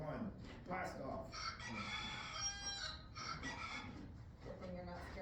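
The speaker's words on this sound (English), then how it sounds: "Good thing you're not scared of roosters" A rooster crows loudly nearby, its drawn-out call repeated, with clucking fowl and some background voices around it.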